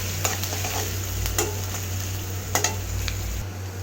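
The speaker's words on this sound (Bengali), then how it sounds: "মাছ ভাজা অবশিষ্ট তেলে দিয়ে দিচ্ছি পেঁয়াজ কুচি," Chopped onion hits leftover fish-frying oil in a pan, giving a steady close sizzle with a few sharp stirring clicks and scrapes over a low constant hum.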